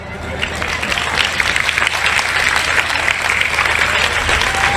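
Sustained applause from an audience at a religious debate, a dense wash of clapping holding steady for several seconds.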